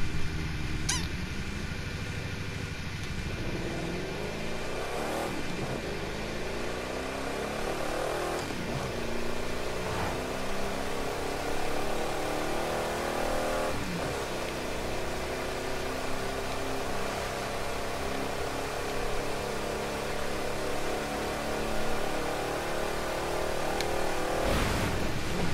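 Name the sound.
Chevrolet Corvette C2 engine driving in video game The Crew 2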